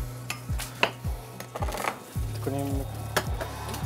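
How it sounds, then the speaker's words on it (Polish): Bacon fries in a pan with pumpkin puree, giving a soft sizzle under repeated clinks and scrapes of a utensil against the pan, close by. "Na tej samej patelni wrzucamy boczek również, tylko żeby zarumienić."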